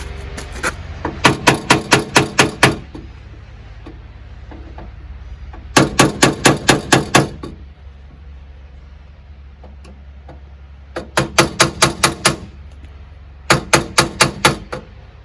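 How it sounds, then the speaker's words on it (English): A hammer strikes Phillips screws on a Honda Accord custom truck build to free them. Quick runs of about six or seven sharp metallic taps come in four separate groups, close up and loud, over a low background hum. "If they don't want to turn, a little pressure on it, hit it with a hammer."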